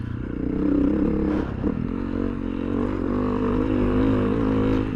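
A big bore Honda CRF300L dual sport motorcycle engine revs while riding, a steady loud droning hum with slight pitch shifts, continuous and close with wind noise.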